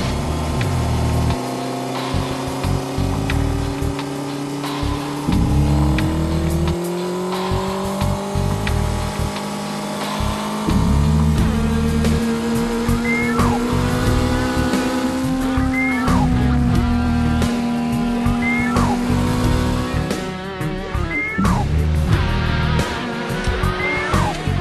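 A Honda 600 Hornet motorcycle screams at high rpm, its loud engine note climbing and falling through repeated gear changes and throttle blips without letup.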